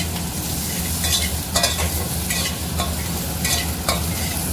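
Onions with Kashmiri chili frying in a pan for an egg curry, a steady close sizzle broken by several scraping stirs of a spoon, with no talking.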